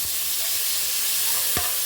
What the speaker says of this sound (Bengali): এবার দিয়ে দিলাম টমেটো কুচি